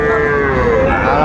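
A Sahiwal bull calf at a busy cattle market gives a single loud, drawn-out moo lasting about a second, close by, with a murmur of market noise underneath.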